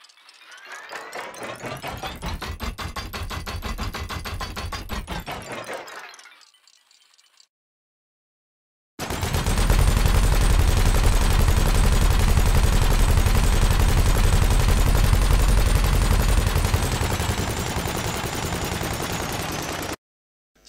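A rotating-barrel gun in Elite: Dangerous first spins up with a dense, rattling mechanical whir that fades out. After a brief silence comes a long, loud, continuous burst of rapid firing that stops abruptly.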